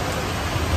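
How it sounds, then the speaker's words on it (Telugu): Heavy rain pours down in a steady, dense hiss that stays even and loud throughout, with no voices over it. "చూడండి ఇక వర్షం అయితే పుల్లు పడుతుంది"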